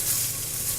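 Green beans and mushrooms stir-frying in coconut oil, a steady soft sizzle with a hissy crackle throughout a short moment, close but fairly quiet, with no talking.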